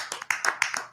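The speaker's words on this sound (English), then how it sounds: "can we get a Cole Irvin, a little appreciation clap here for a second?" A short burst of hand clapping during a baseball chat show previewing an Orioles–Angels series, a quick run of close, crisp claps in an uneven rhythm, with no talking over them.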